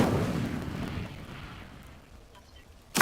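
A spell blast in the fantasy game Hogwarts Legacy: a loud rumbling burst fades away over a few seconds, then a sharp, bright new whoosh hits at the very end.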